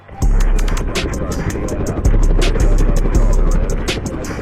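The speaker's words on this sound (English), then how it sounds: "he hops on his very own private helicopter and flies it himself." A loud, steady rotor throb of a private helicopter with rapid rhythmic chopping, close and continuous, with faint voices underneath.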